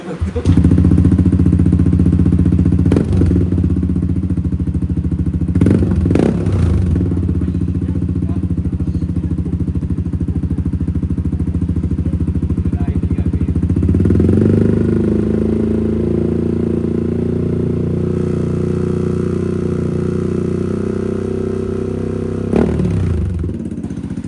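A Yamaha Aerox 155 V3 scooter with a newly installed exhaust idles with a deep, throaty note, then revs up and settles back down, with occasional clanks nearby.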